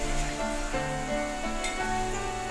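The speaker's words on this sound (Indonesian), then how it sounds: "ini saatnya untuk menumis bumbunya ya teman-teman" Spice paste for Padang-style balado fish sautéing in a pan, a continuous close sizzle and crackle with tonal background music layered over it.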